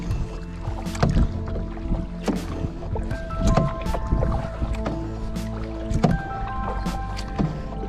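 Paddle strokes splash and drip at an unhurried, even pace as a canoe or kayak moves along the Murray River, close and moderately loud, with water sloshing against the hull.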